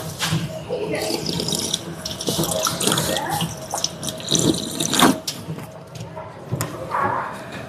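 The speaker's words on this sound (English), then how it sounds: "Water fountain acquired." Water runs and splashes from a drinking fountain in a gym, a continuous close gushing with small splatters and shifts in the flow, with some faint background voices.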